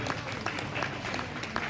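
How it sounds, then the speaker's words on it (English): Audience applause for kids showing pigs at a swine show, a brief patter of scattered clapping with a few sharper individual claps standing out, fairly steady over the short stretch. "Give these kids a big round of applause."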